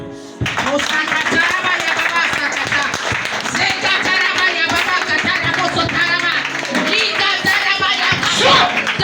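A church congregation claps and shouts acclamations during a deliverance worship service, with steady loud clapping and cheering kept up under the preacher's amplified voice throughout.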